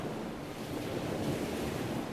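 Ocean waves roll and wash in a continuous soft roar, with breezy wind noise over the top and no voices.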